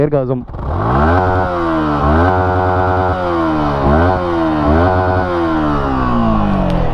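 A 2023 Yamaha MT15 V2 motorcycle with a loud aftermarket exhaust idles gruffly close by, then revs repeatedly in rising and falling bursts, the exhaust note dominating throughout.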